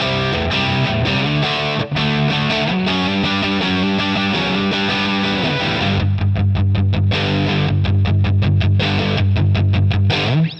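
Crunchy distorted electric guitar chords ring out loud through an amp, shifting into choppy palm-muted chugs toward the end, with no voices.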